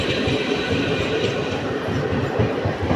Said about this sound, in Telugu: యాక్సలరేషన్ మాత్రం సూపర్గా లాగుతున్నారు, కానీ ట్రైన్ స్పీడ్ అంతంత మాత్రమే